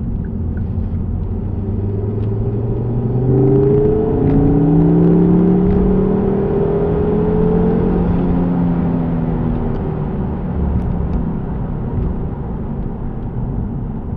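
A Ford Focus ST225 engine fitted with a Muvi K2 cold air intake drones on the road, with a low rumble and rising and falling pitch as it accelerates and eases off.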